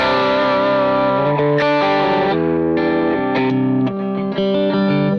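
Electric guitar played through Teddytones Partyboi drive captures, a thick distorted tone ringing out in sustained chords and single notes with a touch of chorus-like shimmer, loud and alone with no talking.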